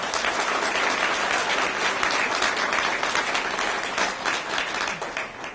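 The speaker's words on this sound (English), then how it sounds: "a quick round of applause for the people behind the scenes that really put this together for us." At a 2013 distinguished alumni awards event, a room of people claps in sustained, even applause for over five seconds, full and close, with the crowd thinning slightly toward the end and no speech on top.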